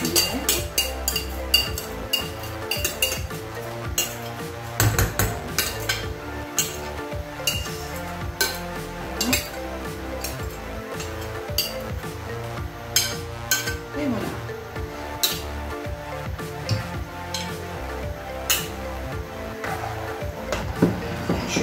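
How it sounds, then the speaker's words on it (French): Utensils scrape and clink against a bowl and pot in repeated strokes as rice is scraped from the bowl into the pot, close and busy, with a person talking over the kitchen sounds. "il faut bien racler le saladier"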